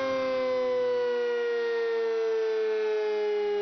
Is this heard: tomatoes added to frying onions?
no